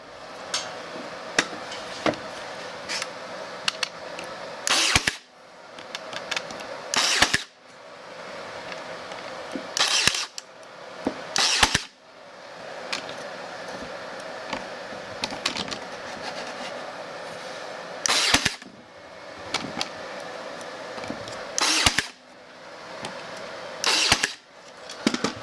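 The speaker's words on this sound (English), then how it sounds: "now we're going to finish by brad nailing the top." A pallet wood box top being brad nailed for a Halloween jack-o'-lantern decoration, with sharp pneumatic nail shots spaced every few seconds over a steady hum of machinery, close and loud, no speech.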